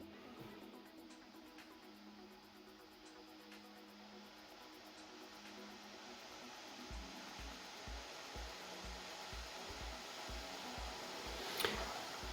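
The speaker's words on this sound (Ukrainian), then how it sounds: "кулерів, які починають розкручуватись" Steady whooshing cooling-fan noise from an ASUS ROG Zephyrus M16 GU603ZW gaming laptop (i9-12900H, RTX 3070 Ti) gradually rises in intensity, with a faint rhythmic low thumping emerging partway through.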